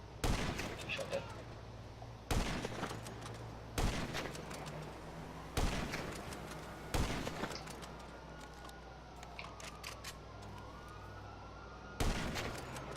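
Gunfire in a crime video game during a mission, sharp single shots spaced a second or two apart over a steady engine-like hum, with a faint siren wailing toward the end.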